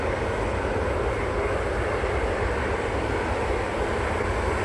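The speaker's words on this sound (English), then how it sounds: "Ryanair next out. This will be going off to Marrakesh." A Ryanair airliner departing Manchester Airport toward Marrakesh, its engines a steady, loud, broad roar that holds evenly throughout with no voices.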